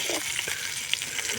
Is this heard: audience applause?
no